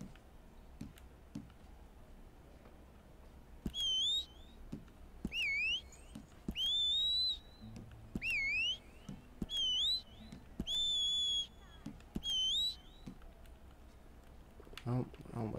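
A character in Red Dead Redemption 2 whistles repeatedly, about eight short two-note and rising whistles in a loose rhythm, clear and bright over faint clicks and a quiet game background hum.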